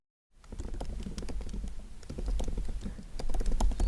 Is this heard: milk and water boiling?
no